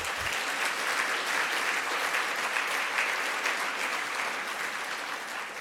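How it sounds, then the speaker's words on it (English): Steady, dense applause from an audience at the Grand Bahama Technology Summit, sustained and even from start to finish with no speech over it. "let's give Kwesi a round of applause"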